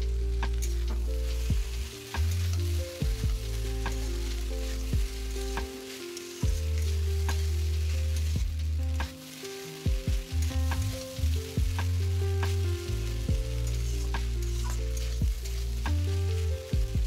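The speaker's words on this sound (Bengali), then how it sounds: "সবজিগুলোর সঙ্গে ম্যাগিটাকে একটু ভাজা করলাম, একটু নাড়াচাড়া করলাম" Maggi noodles and vegetables sizzle and fry in a pan, with steady loud frying hiss and repeated scraping clinks of stirring throughout, no voices.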